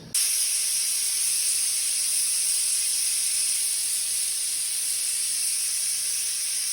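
A pressure cooker on the stove vents steam while cooking country-style chicken biryani, giving a loud, steady, continuous hiss that holds unbroken for several seconds with no voices.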